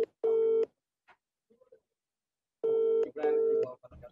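Phone line tones during a live call attempt, two short steady beeps then a longer pair of tones a couple of seconds later, clear and close, with brief faint sounds between.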